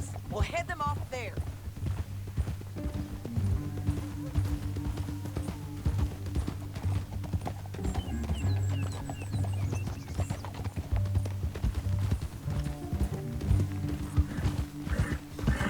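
Hooves of a horse clip-clopping at a steady pace in the Red Dead Redemption 2 video game, continuous through the clip beneath a low musical score, with a voice speaking over it.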